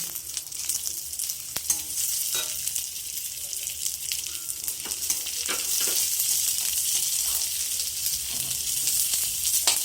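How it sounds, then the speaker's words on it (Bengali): Green chillies sizzle and fry in hot mustard oil with panch phoron while mung dal is being cooked, giving a steady, close crackling hiss that builds slightly over time, with no talking. "এই কাঁচামরিচটা দিয়ে দিলাম"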